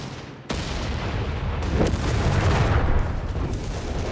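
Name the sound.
150mm gun firing from Sturm Panzer IV, Company of Heroes 3 video game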